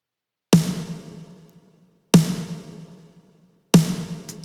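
A punchy, roomy snare drum sample strikes three times in isolation, each hit sharp and loud with a long reverberant tail decaying into silence before the next.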